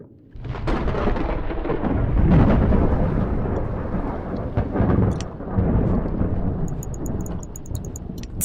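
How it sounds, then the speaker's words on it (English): Heavy rain pours steadily in the PC horror game Rise of Insanity, with rolling thunder rumbling loudly through it and a few sharp crackles near the end; no one speaks. "Oh, I love the sound of that heavy rain."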